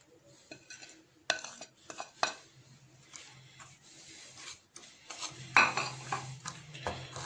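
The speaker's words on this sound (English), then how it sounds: "Now I add all the dry ingredients in the bowl" Dry ingredients for creamy fish pakora being tipped and stirred into a bowl, with soft scraping, light clinks of a spoon against the bowl and a brief rustle near the end, close and fairly quiet.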